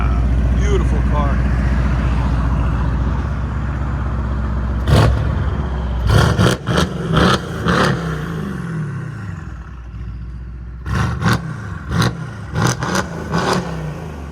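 A Mercedes C63s AMG with a 4.0L twin-turbo V8 and catless straight-pipe exhaust idles with a deep rumble, then fires off a series of loud, sharp revs with crackling pops, close by.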